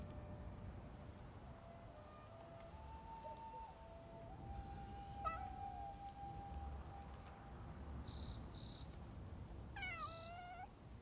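A cat in the Where Winds Meet video game lets out a few short meows, the last a rising, wavering call, faint against a steady wash of ambient game noise.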